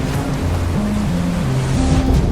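A US Navy destroyer pushes through 15-foot waves in heavy seas, with a steady, loud roar of surf and rushing water plus low engine rumble, continuous and close.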